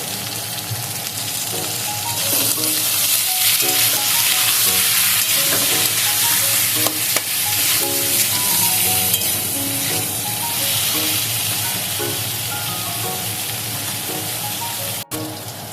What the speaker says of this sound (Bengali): অল্প একটু নুন দিয়ে আমি আলুটা ভেজে নেব